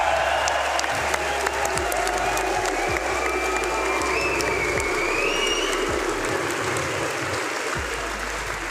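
A large Manchester crowd at an esports match cheers and applauds continuously in a sustained roar, with whistles rising above the noise and low thumping underneath.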